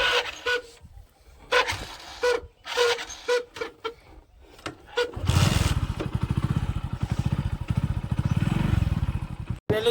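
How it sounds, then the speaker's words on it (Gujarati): A motorcycle started up and ridden away from a farm toward home: a few kicks and clatters at first, then the engine catches and runs with a loud, steady, pulsing putter close to the microphone. "હવે આપણે બાઇક ચાલુ કરીએ"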